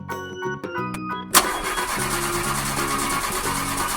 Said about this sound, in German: Okay, starten wir das Auto.